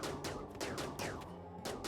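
Rapid bursts of gunfire in the colony game RimWorld, a cluster of repeated sharp shots with short pauses between volleys, loud and steady over a continuous low rumble.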